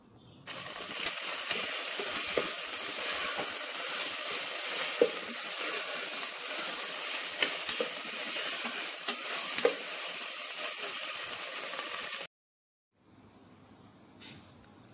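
Ground soya chunks being stirred in a frying pan for veg haleem, a steady close sizzle with scraping strokes running for about twelve seconds, then cutting off to near silence with faint clatter.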